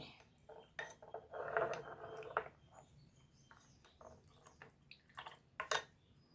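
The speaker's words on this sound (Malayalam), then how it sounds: "നല്ലോണം ഒന്ന് കട്ട ഉടച്ച് വയ്ക്കട്ടെ കേട്ടോ" Quiet, intermittent clinks and scrapes of a spoon against a bowl as a milky mango pudding mixture is stirred to break up lumps, with faint birdsong in the background.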